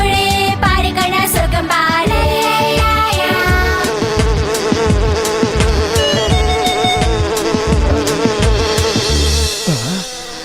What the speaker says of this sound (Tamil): தேனீக்கள் பறக்கிறத பார்த்தா பக்கத்துல தான் எங்கேயோ தேன் கூடு இருக்கணும்னு நினைக்கிறேன்